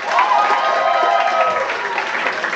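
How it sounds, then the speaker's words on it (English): Applause fills a college-campus gathering of the student government association, a dense, steady clatter of many hands clapping throughout with faint cheering mixed in, loud and close. "So one more round of applause for Connor"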